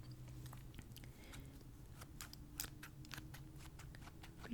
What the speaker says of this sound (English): And I'm going to be using these safety scissors